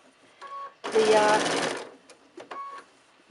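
A sewing machine stitching fabric letters for a quilt runs in one fast, loud burst of about a second, with quieter handling sounds before and after.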